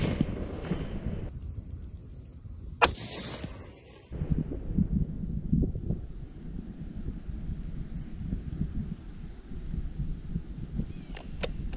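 A Remington 700 PCR rifle in 6.5 Creedmoor fires at a cantaloupe target 151 meters away, one sharp loud report followed by wind buffeting the microphone outdoors.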